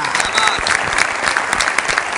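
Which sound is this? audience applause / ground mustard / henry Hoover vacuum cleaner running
audience applause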